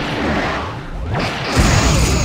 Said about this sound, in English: Captain, multiple torpedoes inbound.